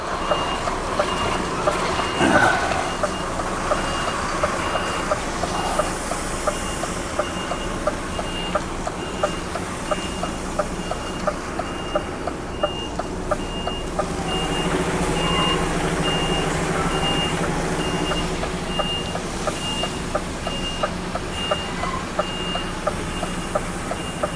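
Repeated reversing beeps sound at a steady rhythm from a new truck backing into an awkward spot beside a parked car, with a low engine rumble beneath throughout.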